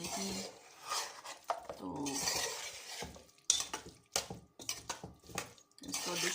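A spoon scrapes and clinks against a pot while keema with green beans is served out, the knocks coming irregularly, close and fairly loud, with a person talking between them.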